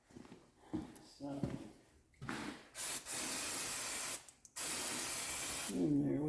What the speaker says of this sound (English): I'm going to give her a shot of brake clean to clean up all of that gear lube